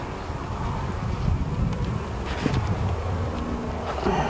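Honey bees hum steadily and fill the air at an opened hive during the first inspection after a cold Texas winter. The buzz is close and continuous, with faint clicks and knocks from the hive frames and no talk.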